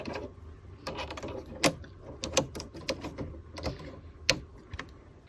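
A Cricut Maker cutting machine drives its scoring wheel across cardstock, giving a steady mechanical whir broken by sharp clicks and clunks as the carriage moves and shifts, close and alone.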